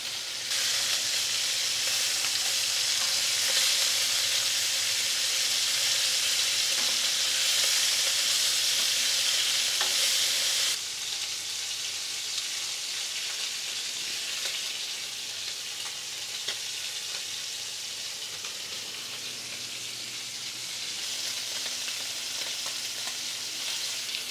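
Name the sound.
lamb chops searing in a pan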